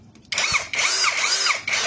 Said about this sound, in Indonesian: Ini impact drill.